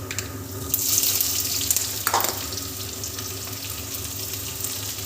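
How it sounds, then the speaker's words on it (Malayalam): Mustard seeds in hot coconut oil in a pan for Kerala sambar sizzle and crackle in a steady hiss with a few sharper pops, close by and without talking. "പിന്നെ നമ്മൾ കടുക് പൊട്ടിക്കുകയാണ്. കടുക് ഇട്ടിട്ടുണ്ട് വെളിച്ചെണ്ണയിൽ."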